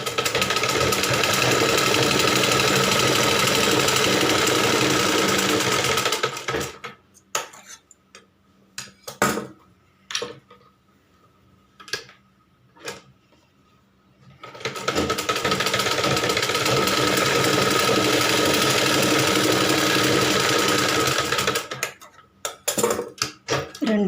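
A sewing machine stitches a blouse in two long, loud, steady runs, separated by a stretch of short clicks and taps as the fabric is adjusted.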